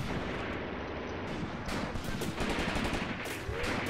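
Dense battlefield gunfire from the war game Graviteam Tactics: Mius Front during a massive infantry assault on trenches, rifle and machine-gun shots crackling continuously over a heavy rumbling background.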